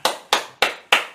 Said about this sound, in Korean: 박수를 보냅니다